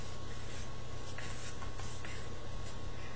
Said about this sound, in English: get your scissors or X-Acto knife, whichever one you prefer, and just kind of cut out this part here